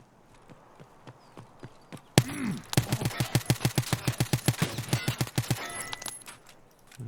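Rapid automatic gunfire in a video game: after quieter single shots, a long sustained burst of evenly spaced loud shots, then it tapers off.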